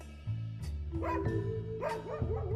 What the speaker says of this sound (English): Woof, woof, woof, woof. That dog won't let me